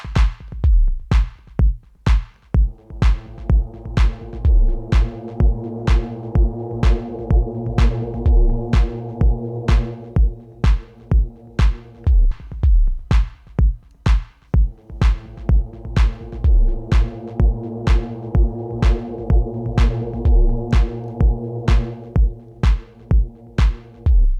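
A dark, low techno synth loop on an OP-Z, pitch-shifted down, throbs in a steady pulsing rhythm, its deep tones sustained beneath regular sharp percussive hits, loud and continuous with no voices.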